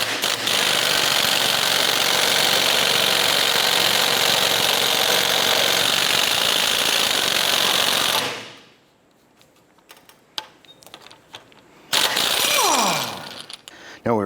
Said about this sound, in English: use our ball joint press and work the ball joint out of the knuckle